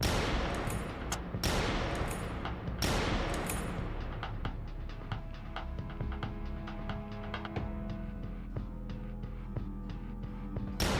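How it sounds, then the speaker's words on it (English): A shooter fires a gun in the Kathy Rain 2 video game, several loud, sharp shots at the start, then a sustained stream of rapid, ringing shots that continues to the end, with no talk. "He's shooting in this direction."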